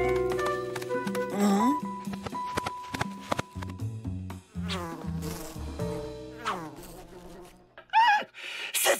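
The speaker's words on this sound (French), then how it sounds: "Ces abeilles se sont enfermées dans ces sacs. Elles vont étouffer, il faut les sauver." Cartoon bees trapped inside sacks buzz and drone, heard in Les Dalton. The buzzing mixes with bright music and sound effects, and a sharp burst of buzzing comes near the end.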